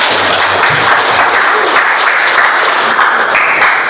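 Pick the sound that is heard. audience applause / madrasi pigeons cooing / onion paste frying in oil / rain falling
audience applause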